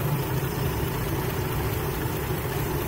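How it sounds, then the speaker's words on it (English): A 2004 Nissan engine idles steadily with its throttle position sensor's idle side disconnected, a continuous low rumble close by that holds an even level throughout, with no voices. "the engine idle drops"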